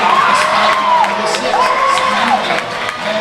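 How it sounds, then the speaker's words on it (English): Crowd at a 2016 North Greenville vs. Southern Wesleyan women's college volleyball match cheering and whooping loudly and steadily after a long rally, with shouting children and rising calls throughout. "Good response by the crowd"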